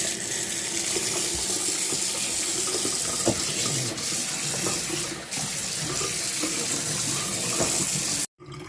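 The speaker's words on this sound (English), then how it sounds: "let's turn on the water and see how it works" Water runs steadily from a newly installed laundry utility sink faucet, a continuous close splashing hiss that cuts off abruptly near the end.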